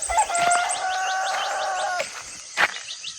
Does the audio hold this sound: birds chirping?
yes